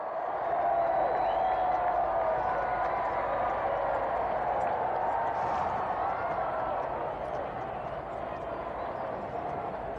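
A large crowd roars and cheers continuously outside Buckingham Palace as Charles and Diana kiss on the balcony, a dense, sustained wash of voices and applause heard from a distance.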